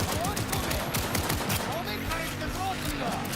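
Auto pistol gunfire in the game Cyberpunk 2077, rapid dense shots blending into continuous loud fire throughout, mixed with game combat noise.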